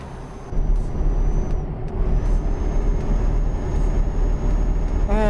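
Volvo FH16 540-horsepower truck driving in Euro Truck Simulator 2, a loud steady engine rumble with a faint high whine above it after a short quieter opening.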